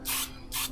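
Two quick hissing spray bursts from a can, close and loud, separated by a brief pause, with no voices.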